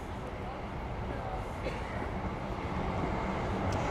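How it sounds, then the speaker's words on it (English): A tram rolls along a city street in Kraków, Poland, making a continuous low rumbling drone that builds slightly over a few seconds, heard at moderate distance amid street ambience. "We've got trams going past"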